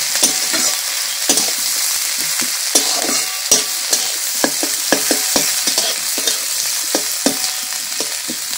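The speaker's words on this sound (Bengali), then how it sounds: "এবার পেঁয়াজটাকে আমি খুব হালকা হালকা করে ভেজে নেব" Chopped onions frying gently in mustard oil with five-spice tempering, a steady close sizzle broken by frequent sharp scrapes and clicks of a spatula stirring the pan, with no voices.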